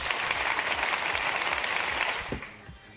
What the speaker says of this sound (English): Let me get a round of applause for you making a trailer.